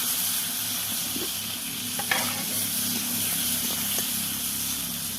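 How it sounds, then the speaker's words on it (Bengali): Potatoes seasoned with turmeric and salt fry in a pan with a steady close sizzle and hiss, and occasional light scrapes of stirring break through the constant frying noise. "একটু ভেজে নেবো আলুটা।"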